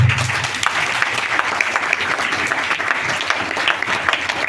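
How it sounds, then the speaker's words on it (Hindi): An audience at a motivational talk on success claps steadily, a loud, continuous patter of many hands with no voices breaking through. "ताली बजाइए 1 मिनट"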